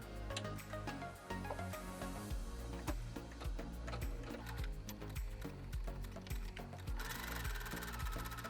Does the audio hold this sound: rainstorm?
no